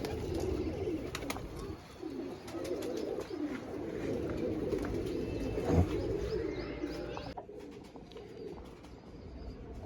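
Pigeons at a rooftop loft coo steadily and softly, with occasional chirps and wing flutters mixed into faint outdoor background noise.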